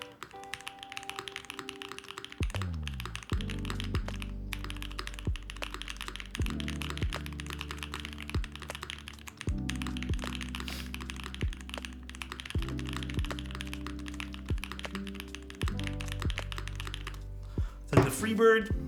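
Steady clacky typing on a Sonnet mechanical keyboard with long pole switches, rapid keystrokes close to the mic, with a low droning background tone throughout.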